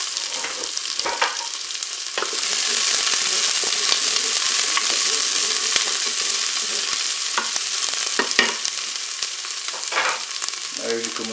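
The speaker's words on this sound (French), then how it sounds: "Je vais commencer par mettre mes oignons dans la cuve." Onions sizzle steadily in hot oil inside a Cookeo multicooker, a dense continuous frying hiss with occasional scrapes and stirring clicks, close and loud, with no talking.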